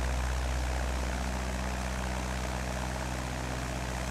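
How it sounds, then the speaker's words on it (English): A small propeller plane's engine drones steadily in flight between Boron Airstrip and Stovepipe Wells, its pitch shifting slightly early on as the tone changes, with a constant airscrew hum throughout. "Why did that plane change sounds?"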